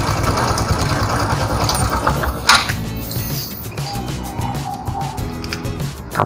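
A 2013 Honda Supra X 125 R motorcycle engine runs with a steady, close idle putter for several seconds, then drops away as it is switched off.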